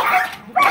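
A crossbred dog being trained gives two quick, loud yipping barks close by, separated by a brief gap.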